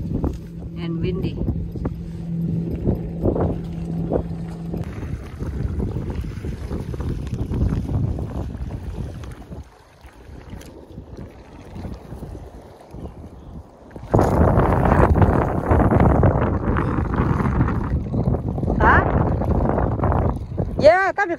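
Strong gusting wind on a hot day at a lake buffets the microphone, roaring loudly, easing briefly before surging back harder; a voice speaks faintly at the start.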